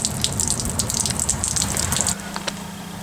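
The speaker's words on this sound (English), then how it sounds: "open up one of the faucets just to make sure that all the water gets out" Water gushes steadily from an open faucet in a travel trailer as the plumbing is drained, a close splashing flow that eases off to a thinner trickle near the end.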